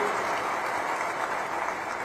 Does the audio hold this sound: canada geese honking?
no